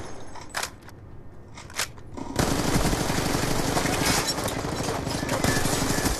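Automatic rifle fire in Black Ops 2 multiplayer, starting with a couple of faint isolated shots, then breaking into a loud, steady rapid burst that rattles on to the end.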